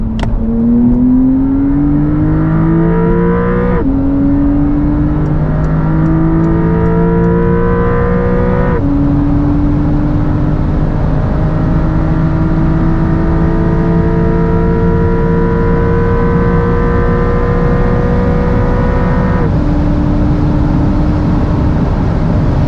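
A 2024 Porsche 992 GTS accelerates hard on kickdown. The loud engine note climbs steadily through each gear, with quick upshifts breaking the rising howl several times, and it carries on without pause and without talking.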